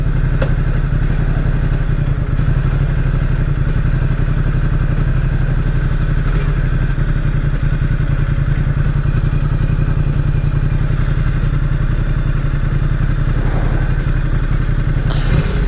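A Ducati XDiavel motorcycle engine running steadily up close, a loud continuous low throb with rapid mechanical pulsing and occasional clattering.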